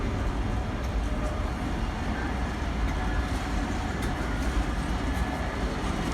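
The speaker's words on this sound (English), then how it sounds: "While the train is mainly Tesco containers, there are some others." A freight train hauling mainly Tesco containers rolls past on the West Coast Main Line, a loud steady rumble with faint rhythmic wheel clatter throughout.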